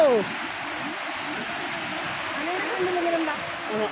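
River water at Thirunelli rushes in a steady, broad roar, close and continuous, with faint voices underneath.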